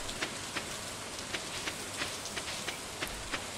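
Rain in the farming video game Stardew Valley, a faint soft patter of scattered drops tapping irregularly over a quiet hiss, with no talking.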